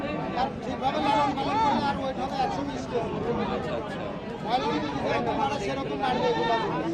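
Goats at an Eid livestock market in Tebaria, Natore, bleat several times over a constant hubbub of crowd chatter and nearby talking.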